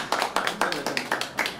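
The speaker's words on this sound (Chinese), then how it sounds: "热烈鼓掌" Audience clapping at the opening ribbon-cutting of a cross-strait calligraphy and painting exhibition, a burst of quick, sharp claps in steady rhythm that carries loud and close for under two seconds.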